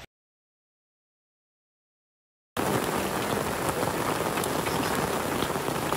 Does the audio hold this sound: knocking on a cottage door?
no